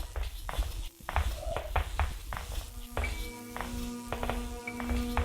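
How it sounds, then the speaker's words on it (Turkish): Footsteps in the fan-made remake of the horror video game Granny Chapter Two, a series of sharp thudding taps at an uneven walking pace, followed by a sustained humming tone and clicking game sounds. "Ayak seslerine bak."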